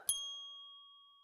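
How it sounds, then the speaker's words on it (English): A single strike on a counter service bell, one bright ding whose clear metallic tone rings on and slowly fades into silence. "I ring the bell,"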